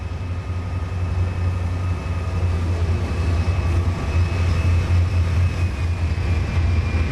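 A train in the Trainz simulator rolls along with a steady, loud low engine drone and rumbling wheels, continuous throughout with no talking.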